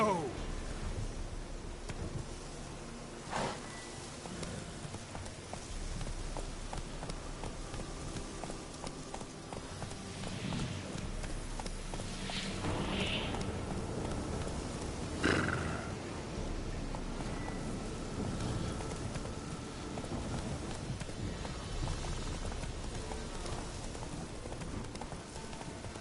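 Roach the horse from The Witcher 3 gallops with steady clip-clop hoofbeats amid rain-like game ambience, a voice briefly speaking over the rhythm.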